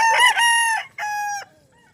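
Gamecocks on a chicken farm in Bauang, La Union crow twice in quick succession, loud and close, with bright sustained calls and a short gap between them, then fade to near silence.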